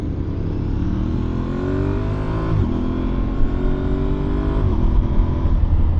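Aprilia Tuareg 660 parallel-twin motorcycle pulls hard under steady engine roar, its pitch climbing and then dropping sharply at two quick-shifter gear changes, loud and continuous with wind noise.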